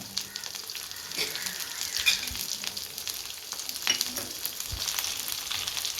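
Whole masala-coated fish frying in a pan over a low-to-medium flame, with curry leaves and fennel in the oil, crackles steadily with frequent close spattering pops.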